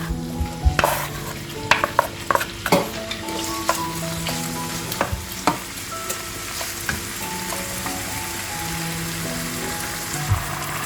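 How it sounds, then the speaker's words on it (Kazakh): Steady sizzling of meat frying in oil for spaghetti, with frequent clattering stirs and scrapes of a utensil against the pan, close and fairly loud. "Етті қуырамыз бірінші."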